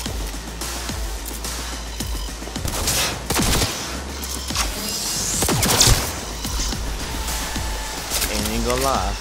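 Cyberpunk 2077 gunfire in quick, dense bursts with clattering shots mixed into busy game sound, while a voice talks through it.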